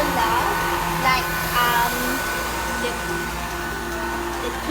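A KHIND cordless lightweight vacuum cleaner runs with a steady, fairly loud airy whir that holds throughout, with a voice speaking faintly underneath.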